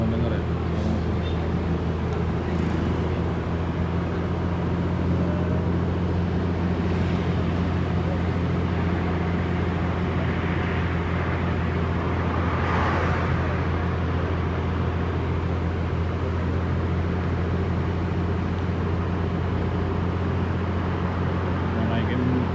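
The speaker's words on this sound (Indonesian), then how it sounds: "Oh, teman-teman denger ya? Suara mesin." ALS intercity bus idling at the Palembang ticket terminal, a steady low engine drone with constant hum throughout, heard close and continuous alongside faint background activity.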